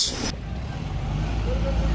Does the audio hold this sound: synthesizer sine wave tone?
no